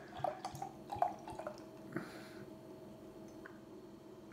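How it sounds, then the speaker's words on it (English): Dugges mango imperial stout beer is poured into a glass, giving faint glugging and splashing with a few soft drips and clicks, quiet and close with no talking. "So, really pouring jet black."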